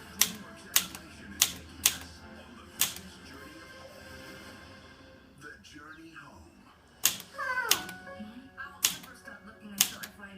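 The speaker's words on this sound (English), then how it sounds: "I'm typing on the typewriter." Typewriter keys struck in irregular sharp clacks, several in a row, then a pause with someone speaking, then more strikes; close and crisp in a quiet room.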